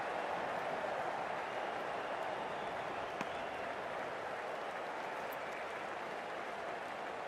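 A cricket video game stadium crowd applauds steadily in a dense, even wash of clapping and cheering that holds for several seconds, moderately distant and without a break.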